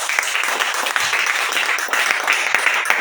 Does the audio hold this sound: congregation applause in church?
yes